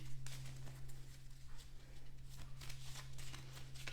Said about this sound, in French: Je remélange pour ce grand changement de situation